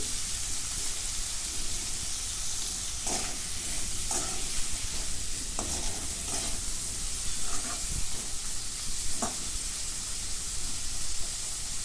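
Chopped bitter gourd being sautéed in a pan, a continuous close hissing sizzle with occasional scraping stirs, no talk over it.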